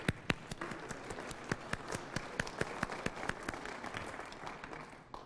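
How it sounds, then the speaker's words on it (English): Applause from a panel audience after thanks for grant support, moderately distant with distinct sharp claps standing out over a dense wash of clapping that fades slightly toward the end. "Let us give them a round of applause"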